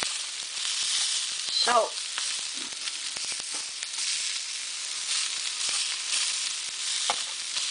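Vegetables for a Pad Thai stir fry sizzle steadily in a hot pan, a constant bright hiss with occasional clinks of a utensil, and a voice briefly speaking over it.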